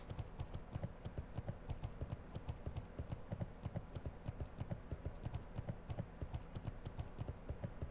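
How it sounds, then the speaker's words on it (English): Skeleton horse mount from WoW Classic trotting along, its hooves clopping in a steady, quick rhythm at low volume throughout, with no talking. "Skeleton horse."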